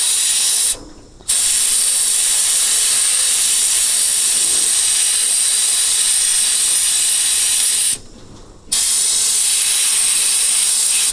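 Abrasive blasting of gun parts up close, a loud, steady, broadband hiss of spraying grit that runs unbroken, cutting out briefly twice before resuming.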